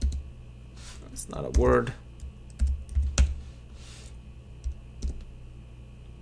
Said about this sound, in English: I'm gonna type in a wrong word.